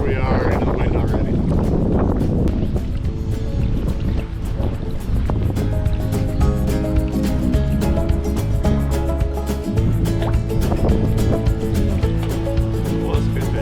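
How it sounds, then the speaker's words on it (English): Steady, loud wind buffeting the microphone while paddling a Nordkapp sea kayak into the wind along the Maine coast, a continuous roar with water sounds underneath and a voice talking over it. "Here we are into the wind already."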